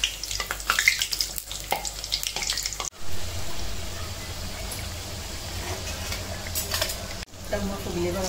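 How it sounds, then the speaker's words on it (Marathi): Puris deep-frying in hot oil, a steady close sizzle and bubbling with occasional scraping of a utensil in the pan, continuous throughout. "लालसर तळून घेते आता ह्या."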